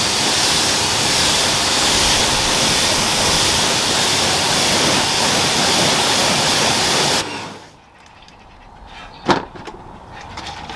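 A strong, steady spray of water rinses spray-on sealant off a car during a winter wash, a loud hissing wash that cuts off abruptly, leaving a quieter background with a few small knocks.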